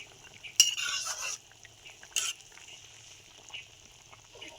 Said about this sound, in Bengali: এবার আমি ভেজে রাখা মাছগুলো দিয়ে দিলাম, দিয়ে আরো ভালো করে আমি ফুটিয়ে নেব